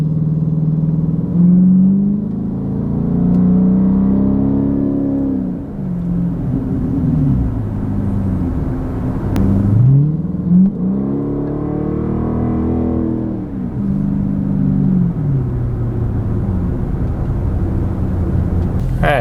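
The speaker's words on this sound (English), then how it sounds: "we're gonna get a driving tone test from inside the car here" Chrysler 300C with a 5.7 Hemi V8 and performance exhaust, heard from inside the cabin while driving: a steady, loud engine drone that rises and falls through several accelerations and gear changes.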